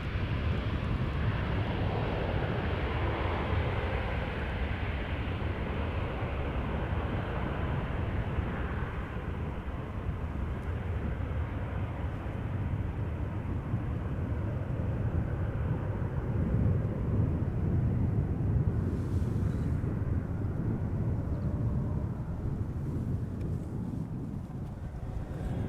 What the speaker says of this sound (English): Taking its time to take off, but there you go, airborne.